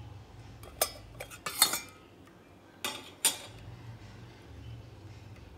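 A metal pressure cooker lid comes off a pot of instant junnu with a few close, bright clanks and clinks, grouped in two short bursts over a quiet background hum.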